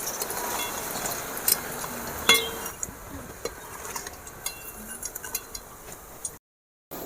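Vegetable chops fry in a pan of oil with a soft, steady sizzle, and clinks and scrapes of a utensil against the pan stand out in quick, irregular taps, close by and fairly quiet.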